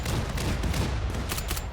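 Rapid pistol gunfire crackles through a firefight in the colony-survival game Rimworld, a dense run of overlapping shots with sharp bursts near the end, loud and continuous with no talking.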